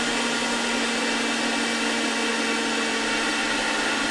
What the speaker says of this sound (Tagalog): ayaw na umikot yung aming blender